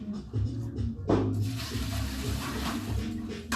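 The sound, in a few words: water sloshing in a bucket of warm water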